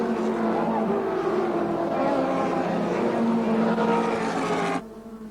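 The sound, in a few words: racing cars, including the CIG Gases Commodore, passing on track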